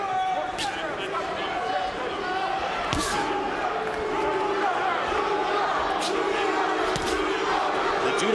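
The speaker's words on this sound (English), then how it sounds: "The Judah fans in the crowd trying to chant for their man." Boxing fans at a 2004 welterweight title fight between Zab Judah and Cory Spinks chant in the arena, a rhythmic crowd chant rising over steady arena noise, with a commentator's voice on top and occasional sharp impacts.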